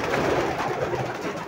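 Pigeons cooing in a newly built pigeon loft, a soft continuous murmur of overlapping low coos with a few brief flutters, close and steady, no talk.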